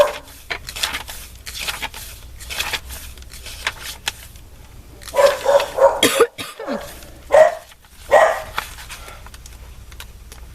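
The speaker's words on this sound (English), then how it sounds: "I don't know why they're barking." Dogs bark in scattered bursts, a few loud barks clustered midway, separated by quieter stretches of background noise.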